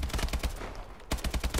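Rapid automatic gunfire in Call of Duty: Advanced Warfare, Uplink mode, two close bursts of quick rhythmic shots separated by a brief pause.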